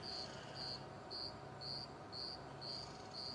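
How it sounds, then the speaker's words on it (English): Steady chorus of crickets and katydids at dusk, with regular pulsing high-pitched chirps repeating about every half second over a continuous insect drone. "Crickets and katydids and"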